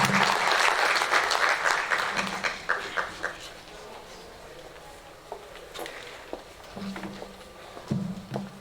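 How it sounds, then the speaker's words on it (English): An audience at a World Tourism Day celebration at the University of Zimbabwe claps, loud at first, then the applause thins out into scattered claps that fade away. "another round of applause for you"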